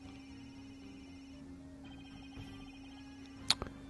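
A cell phone in the game Ace Attorney: Dual Destinies rings with a steady electronic tone held for a few seconds, with a soft background hum and a couple of sharp clicks near the end.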